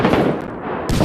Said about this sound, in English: I got hit by a mortar team.